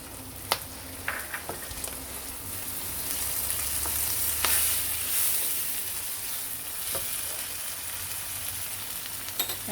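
XO sauce sizzles and fries in a pan with prawns and Chinese cooking wine, giving a steady close crackle with a few sharp stirring clicks and no speech.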